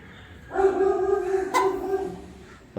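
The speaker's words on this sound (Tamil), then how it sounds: "நாய் குலைக்குது பார்த்தியா?" A dog on a farm lets out a single drawn-out bark or howl lasting about two seconds, moderately close and clear against a quiet background.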